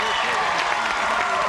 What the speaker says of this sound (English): this is the time to applaud